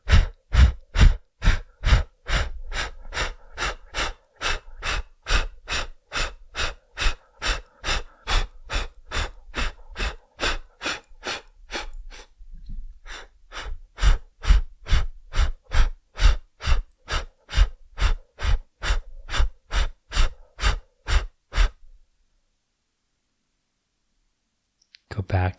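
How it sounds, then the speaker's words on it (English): Rapid forceful exhalations in a hot yoga breathing exercise pulse in a steady, even rhythm for about twenty seconds, close and loud, with a short gap partway through before they stop and a final breath sounds. "Just imagine you're blowing this candle over and over again."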